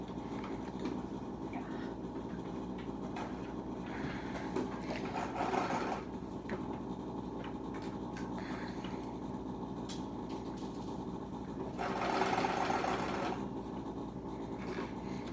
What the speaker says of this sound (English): you're just gonna top stitch around that